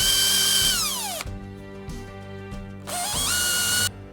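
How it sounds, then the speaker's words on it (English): A power drill bores a hole through the deck of a Hobie Pro Angler kayak, with EVA padding around the spot. The motor whines up in two loud bursts, the second after a short pause, with a falling pitch as each cut finishes. "A high-speed setting on the drill will definitely help preserve the EVA padding around the hole"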